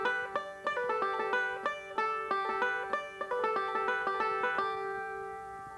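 Five-string banjo picks a steady, bright rolling variation on a tune's B part, rapid plucked notes in even rhythm, close and alone, the last notes left ringing.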